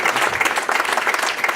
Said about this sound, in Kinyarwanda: Let's give a hand of praise to Jesus.